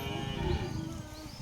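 A cow lows with a long, loud, steady moo at a village Pongal festival in India, the call filling the clip without any talk over it.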